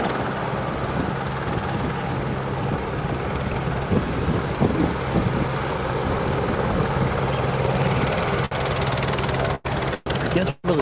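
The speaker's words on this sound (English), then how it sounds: "It was funny to see that jet coming in and hearing the sound of a helicopter." A helicopter near an airport drones steadily and fairly loudly throughout, a continuous rotor and engine roar with wind buffeting the microphone, and a few brief dropouts toward the end.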